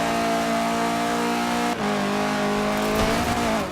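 A KTM X-Bow GT4 race car engine in Forza Horizon 4 revs steadily and loudly, its pitch holding then briefly dipping and climbing again, with a bright, buzzing synthetic quality.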